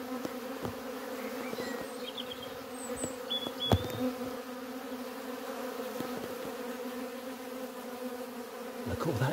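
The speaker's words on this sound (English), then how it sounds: "The maintenance bees are going round, sealing up all the gaps created by me by taking it apart last week" Honeybees buzz busily around the hive, a layered steady drone with individual bees zipping past the microphone now and then.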